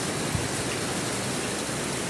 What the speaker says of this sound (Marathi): मोठा पडला पाऊस,